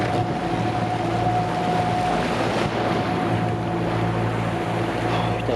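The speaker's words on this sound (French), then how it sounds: "Bon, il y a le bruit du moteur." The motor of a small sailing boat hums steadily at sea off Marseille, its droning tone blending with wind rush and the wash of the water against the hull, with no voices.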